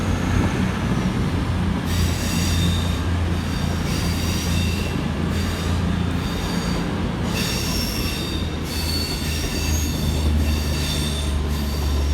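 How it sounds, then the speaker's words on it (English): Avanti West Coast class 221 diesel trains departing Crewe station, with loud, continuous wheel and rail noise and repeated high metallic squeals of the wheels throughout. "Next train out to depart is 221 101 and 221 106. Working the 14:45 Avanti West Coast service from London Euston through to Chester."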